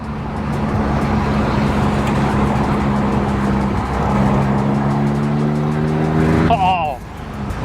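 A BMW Z3 roadster drives along at steady speed, its engine drone holding loud and continuous with road noise, then rising in pitch toward the end as it revs up.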